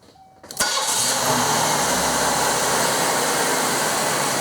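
A GM 3800 Series II V6 car engine cranks briefly and catches, then settles into a steady, loud, close idle that runs without a break.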